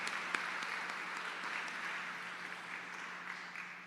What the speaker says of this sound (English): give an excellent round of applause to welcome Clorinda Bennett Harrison